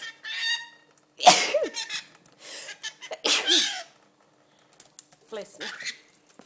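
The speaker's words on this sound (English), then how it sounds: "mummy needs to sneeze" A sharp, close sneeze bursts out, followed by another loud sneeze and some light splashing from a rainbow lorikeet's bath, and faint voices.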